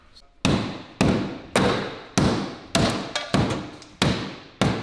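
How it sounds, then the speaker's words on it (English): Heavy, evenly spaced hammer strikes knocking out a firewall plug ring out close by, roughly eight or nine hard metallic blows with short decays between them. "decided he was just going to go ahead and do a quick removal with a hammer"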